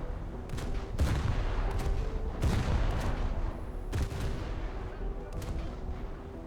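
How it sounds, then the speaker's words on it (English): Naval guns on a Fante-class destroyer, the RN Geniere D555, fire in a video game broadside, heavy booming shots stacking in quick succession over a continuous rumbling battle din, loud and dense throughout. "I think it's about 180 rounds a minute that this ship can send out at full broadside"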